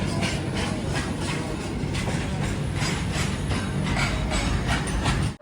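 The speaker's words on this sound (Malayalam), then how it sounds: "കൽക്കരി കൊണ്ടുപോകുന്ന വണ്ടി." A coal-carrying goods train rolls past in India, a steady loud rumble with rhythmic clickety-clack of wagon wheels over rail joints, heard from a moving passenger train.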